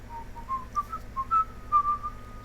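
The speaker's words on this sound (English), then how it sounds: "Sorry, I shouldn't whistle, not on microphone" A person whistles a wandering, tuneful melody of several short notes in a quiet indoor space, close and clear with no talking, during Unreal Engine 4 shader compiling.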